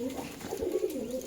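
Pigeons kept for sale in Beldanga, Murshidabad give a short, soft, low throaty coo close by, rolling briefly over a quiet background.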